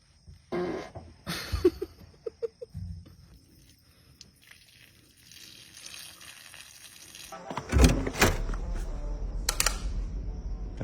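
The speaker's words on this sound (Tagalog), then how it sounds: "Utot ako." Short, close fart sounds, a few quick bursts early on, followed by louder rustling and thumps, heard during an outdoor hide-and-seek game.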